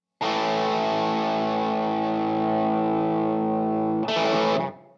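An electric guitar through a Dirty Haggard Audio Arcane Distorter distortion pedal rings out one sustained, thick, buzzing chord, then a short harsher strum follows and cuts off, loud and alone.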